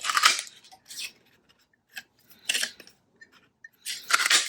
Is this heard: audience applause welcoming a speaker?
no